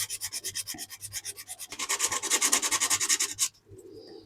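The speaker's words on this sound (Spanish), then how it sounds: "con paciencia, vamos a ir lijando" Rhythmic hand sanding of carved popper heads for fly fishing, a quick series of close, scratchy rubbing strokes that speed up and then stop abruptly, with no talk.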